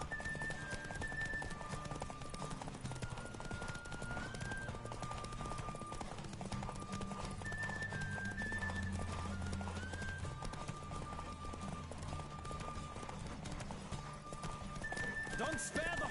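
Horse hooves pound in a fast, steady galloping rhythm with an occasional whinny in a PS4 video game, set against continuous background music and a voice.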